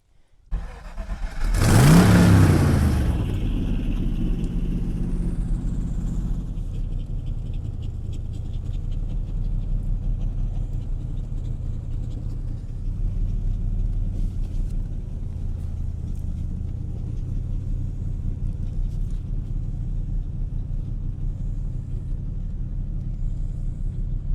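A Pontiac Fiero fitted with a custom crate V8 engine starts up with a sharp, loud burst, then settles into a deep, steady rumble as it drives, heard close and alone.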